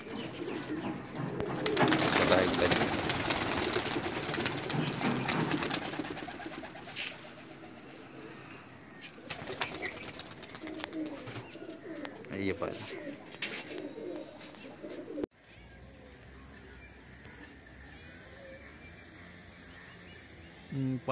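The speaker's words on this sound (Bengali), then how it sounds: "পায়রা চলছে," A flock of eleven Madrasi racing pigeons is released at a tournament in West Bengal, with dense bird sounds and flapping that are loud early on, then thinner, under intermittent talk and background noise.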